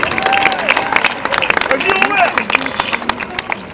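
Crowd at a Paris rally against terrorism clapping and cheering, with bursts of applause and shouted voices mixed into a lively, close, continuous hubbub.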